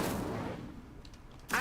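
Incendio fire spell cast in a Hogwarts wizarding video game: a burst of fiery whoosh that fades over a second, followed by a short sharp crackle at the end.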